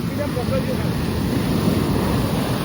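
Sea waves washing on the Dwarka shore at sunset, a steady broadband roar of surf with wind buffeting the microphone and no clear pauses.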